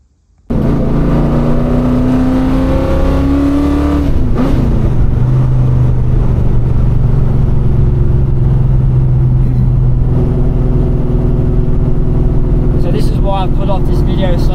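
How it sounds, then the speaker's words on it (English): A 1970 Ford XY Falcon engine bursts into life, revs up with climbing pitch, then settles into a loud, close, steady drone as the car drives. "I really wanted to get the sound of the car, the driving of the car"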